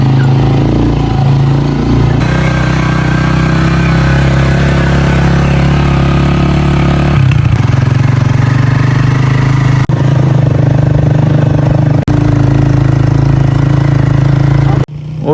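A motorcycle engine idles steadily up close in Leepa Valley, a loud, even low rumble that holds for the whole stretch with small shifts in tone and no talk over it.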